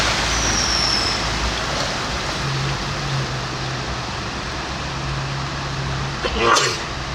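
A car driving past on a flooded road between Pochmaistrivka and Zahaitsi, a loud steady wash of engine and road noise with a brief hiss and splash near the end, people talking over it.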